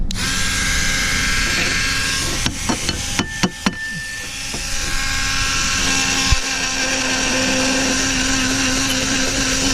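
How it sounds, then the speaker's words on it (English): A rotary tool fitted with a polishing stone works a Hi-Capa pistol part, giving a steady high motor whine with a cluster of sharp clicks and knocks early on as the stone touches the metal. "now that we got that stone that looked like it polished it, that's what I'm gonna go ahead and do. I'm gonna go ahead and polish that piece."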